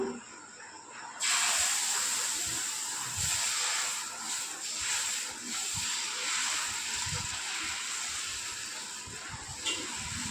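Dosa batter hits a hot pan and sets off a sudden loud steady hiss that fades slowly over about nine seconds, close by and with no talk.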